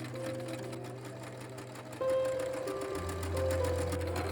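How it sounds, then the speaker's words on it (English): A sewing machine gathering fabric into ruffles runs close and steady, its motor humming and stitching continuously, with the pitch and speed changing partway through. "I gathered my 6 meters of ruffles in total by machine."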